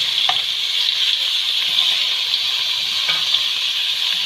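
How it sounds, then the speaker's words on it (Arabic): Onions frying in a pan for a simple home dish, giving a steady, close hiss of sizzling oil with a few brief stirring clicks throughout. "هنزل بقى بالبصل وهسيبه بقى يحمر شويه"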